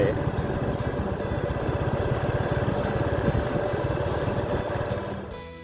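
A farm tractor engine chugs steadily with a low, rhythmic putter, close by and fairly loud, then fades slightly at the end.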